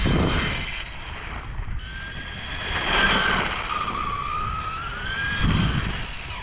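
RC street basher car driving at full throttle, a sustained electric motor whine rising and falling in pitch with speed over tire and road noise, moderately close.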